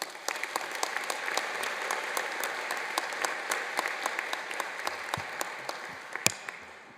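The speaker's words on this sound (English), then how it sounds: "Please give a round of applause for Wendy Long." An audience at a college convocation ceremony gives sustained applause, a dense patter of many hands with a few sharper nearby claps standing out, steady throughout and fading slightly at the end, with no talking.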